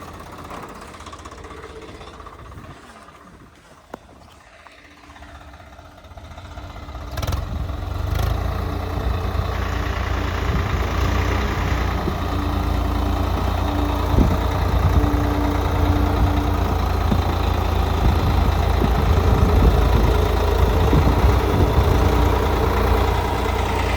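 A tractor engine runs with a lift harrow attached, a steady heavy rumble with clattering knocks that builds louder after the first few seconds and holds close and continuous, with no voices.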